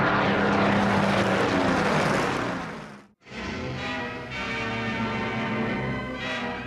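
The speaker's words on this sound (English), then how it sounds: "the young pilots of Mitchell's Spitfires would have to fight for their lives" Loud, steady roar of a Spitfire fighter aircraft's propeller engine, droning close by, cutting out for a split second, then resuming its continuous rumble with a layered, buzzing tone.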